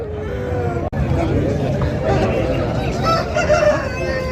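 An Aseel fighting rooster at a rooster market crows loudly nearby over a busy background of crowd chatter and other fowl, while people talk close by.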